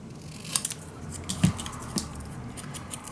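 Scissors snip paper for a scrapbook mini album, a few short, quiet cuts spaced irregularly, close by against a faint background with no speech.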